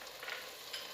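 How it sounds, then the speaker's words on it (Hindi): Chicken browning in a pan, a soft continuous sizzle and crackle heard close but faint, with no voices. "हमारा चिकन किस कदर माशाल्लाह अच्छी शक्ल का भुन गया है"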